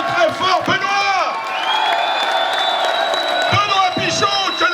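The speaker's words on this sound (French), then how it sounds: "je vous demande de les applaudir encore très fort" A crowd at a ball applauding and cheering loudly, with sustained clapping, whoops and shouts blending into a dense, continuous roar up close.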